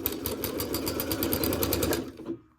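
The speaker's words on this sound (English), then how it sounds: "So I'm going to sew down just to about here" A sewing machine stitches down fabric scrap strips for a heart mug rug in a fast, even, rhythmic run of stitches up close, then stops abruptly near the end.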